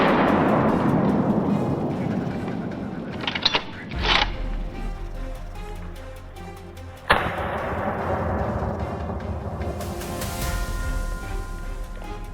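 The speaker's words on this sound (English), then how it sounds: "A gunshot rang out instantly, and the boar collapsed" A single sharp rifle shot cracks out in a snowy forest during a night wild boar hunt, preceded by a few dull knocks and followed by low ambient rumble.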